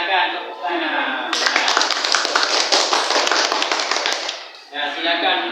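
A classroom breaks into applause, a burst of many hands clapping densely for a few seconds, with voices speaking before and after it.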